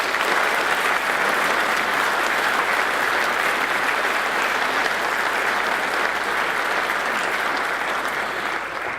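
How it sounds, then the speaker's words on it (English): A business audience gives the Tasmanian Premier and Treasurer a big round of applause, dense and loud, sustained evenly without a break from start to finish. "can I please ask you all to give the Premier and Treasurer a big round of applause for her"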